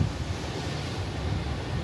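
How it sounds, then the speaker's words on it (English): Heavy ocean surf along the Taiwan coast, a steady broadband roar of crashing waves mixed with wind buffeting the microphone, continuous and close, with no voices. "The waves are massive."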